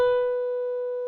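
A single sustained, pure electronic piano-like tone from a simulated automated piano player rings steadily for about a second, then cuts off abruptly, clean and alone.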